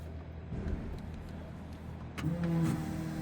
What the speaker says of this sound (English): You can hear the fuel pump kick in.